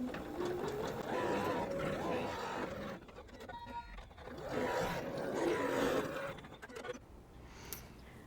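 A sewing machine stitching the drawstring openings of a fabric tool pouch with white thread, a close, steady mechanical whir in two long runs separated by a brief pause.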